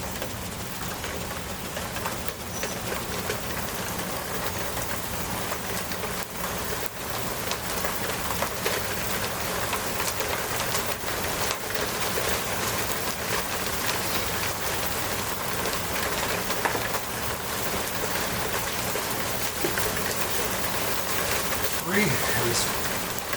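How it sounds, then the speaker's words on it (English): Steady afternoon rain falls in Florida, a dense, even hiss of drops on surfaces that lasts throughout. Faint bird calls are scattered in the background. "Starting to rain."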